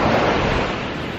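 Ocean waves wash steadily onto a beach, a continuous broadband roar of surf with some wind across the microphone, close and loud throughout.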